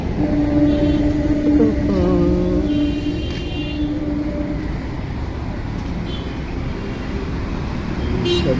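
Rumbling train noise at Koilapettai railway station, a steady low roar with a few tonal squeals and hums, no talking.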